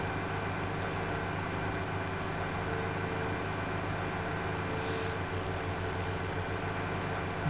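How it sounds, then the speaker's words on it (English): A tractor engine idling in Farming Simulator 17, a steady, loud, low rumbling drone that holds unchanged throughout with no talk. "I do like the noise of this tractor. It's nice and noisy."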